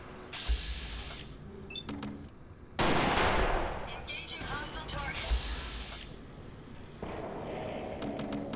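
Gunfire in Fallout 4, several sharp bursts spread across the moment, some sustained like rapid fire, mixed with game effects while people talk over it.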